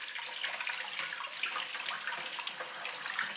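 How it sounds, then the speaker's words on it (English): Live crabs being scrubbed and rinsed under a steadily running tap, a continuous close hiss of flowing water with faint scrubbing textures and no talk. "We're gonna get up in the crevices and scrub and rinse."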